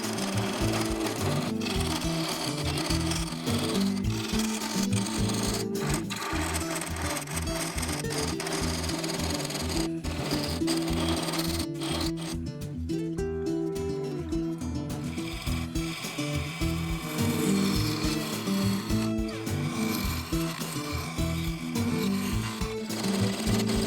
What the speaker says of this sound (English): This is the Simon Hope medium hook tool.